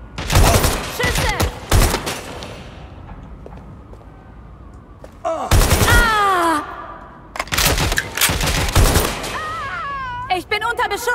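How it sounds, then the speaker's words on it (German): Bursts of rapid gunfire in the video game Watch Dogs: Legion crackle in loud clusters, separated by quieter stretches with distant shots and game ambience; no one speaks. "Schüsse!"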